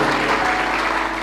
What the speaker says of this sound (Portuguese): Aplauda ao Senhor Jesus Cristo.